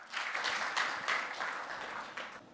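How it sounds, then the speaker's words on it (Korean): A startup pitch competition audience gives a contestant a short burst of applause, many hands clapping steadily at moderate volume, then tapering off. "박수 부탁드립니다."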